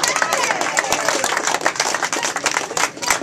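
Attendees at a community camp meeting applaud in a room, a loud uneven burst of many overlapping claps with a few sharper individual hits, with voices mixed in underneath.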